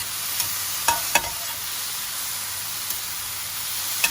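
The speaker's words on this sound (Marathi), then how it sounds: "व्हेजिटेबल आमकां फक्त बटर घालून फक्त 2 मिनटां अशें घुणोवपाचे, मिक्स करून घेवपाचे आणि मशरूम हे भाशेन शिजोवन घेवपाचे" Vegetables and mushrooms sautéing in butter for a Christmas dinner give a steady close sizzle, with a few sharp clicks as they are stirred.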